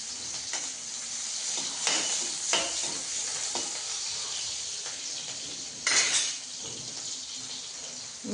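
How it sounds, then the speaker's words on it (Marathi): Green chillies roast in a pan, crackling and spitting in a steady sizzle with several sharper pops scattered throughout, fairly close and loud. "फक्त हे असं तेवढी मिरची बारीक अशी भाजायची. कशी तडतडा उडते बघायची."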